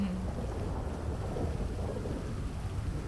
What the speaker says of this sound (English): I'm trying to stay out of the rain